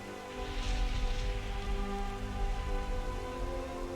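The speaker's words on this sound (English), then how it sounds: "The splashes will occur when rain hits surfaces such as the ground or static objects or even the character you are playing." Rain splashing on the ground, static objects and the player character in Skyrim with a weather mod: a steady, dense hiss of drops pattering continuously throughout, fairly loud, with no voices.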